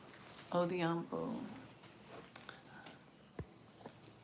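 A dog whimpers and whines indoors in high, wavering cries up close, followed by faint shuffling and small clicks.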